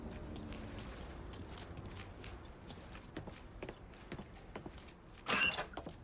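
A set of car keys jingles and rattles in Mafia III, a short metallic jangle that rises near the end over quiet in-game ambience and a few soft footsteps.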